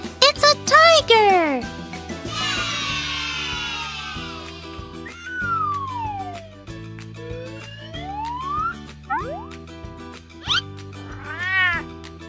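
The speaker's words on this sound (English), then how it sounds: "It's a cat!" A cat meows repeatedly, with rising and falling cries mixed among bright jingles, short musical notes and a voice speaking.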